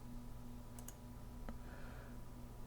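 A few sharp, faint mouse clicks in a quiet room at a computer while a Unity blackjack card game is being played: a quick double click, then a single click.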